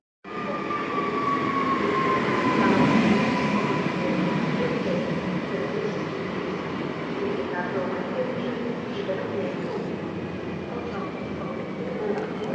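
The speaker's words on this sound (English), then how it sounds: "This is a newer model of the same train, the regional one." A newer regional passenger train in Poland rumbles steadily close by for the full length, a continuous rolling rail roar with a faint whine and light wheel clatter, loudest early on and holding even.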